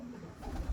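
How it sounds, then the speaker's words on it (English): Newly bought pigeons, not yet settled and still a bit wild, give a low brief coo up close, a single soft throaty call against quiet background. "These are the new birds."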